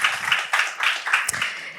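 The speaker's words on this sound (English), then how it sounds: "let's have a round of applause for all of us who gathered here" An audience claps at a startup accelerator demo day, a dense, fairly close patter of many hands in steady applause for a couple of seconds.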